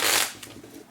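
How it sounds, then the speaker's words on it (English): Tarot cards are shuffled by hand in a quick, close riffle that fades after a brief burst into soft card rustles, with no voices. "These cards are already shuffled upright. I'm going to continue shuffling them a little bit more on camera."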